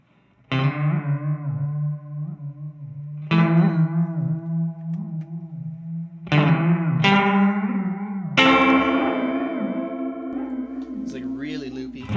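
An electric guitar runs through an effects pedal with its modulation rate set low, giving a slow, wobbly, loopy character; several sustained strummed chords ring out with reverb and slight distortion, played alone.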